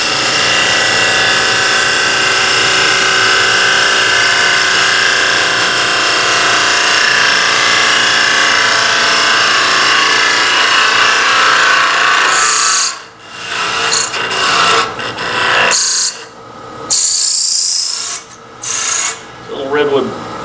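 A lathe turning tool cuts a redwood Christmas ornament, a steady, loud raspy scraping that runs continuously, then breaks into short stop-start bursts of cutting with brief pauses near the end.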